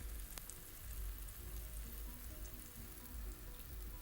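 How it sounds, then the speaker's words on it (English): Mushrooms fry in a pan, giving a soft, steady sizzle and crackle with a faint low hum beneath, fairly quiet and continuous, with no talking. "here I am frying the mushrooms about 2 to 3 minutes per side"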